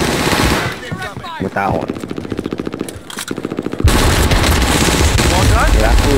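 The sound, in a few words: rifle gunfire in video game Call of Duty Modern Warfare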